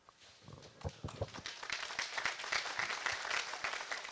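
Audience applause at a pre-fight press conference for a bare-knuckle fighting event, beginning with a few scattered claps and swelling into steady, dense clapping from a crowd.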